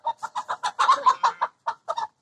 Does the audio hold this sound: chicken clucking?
yes